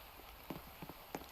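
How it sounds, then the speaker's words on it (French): Faint rain in a Roblox game patters quietly, with a few soft, distinct drops landing in a short, sparse burst against a low hiss. "Waouh, il pleut."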